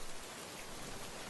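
Heavy rain pours down on a Halloween night, a dense, steady hiss of downpour with no gaps or other sounds.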